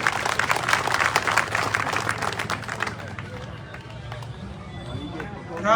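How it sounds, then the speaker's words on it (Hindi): An audience at a live Haryanvi ragni event claps, a dense burst of applause mixed with crowd hubbub that fades after a few seconds into quieter murmuring and background voices. "ताली तो ठोको"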